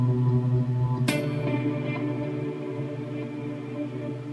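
An electric guitar run through reverse delay, reverb and light modulation rings out in sustained chords, with a swelling reversed note rising midway and a long, washy tail.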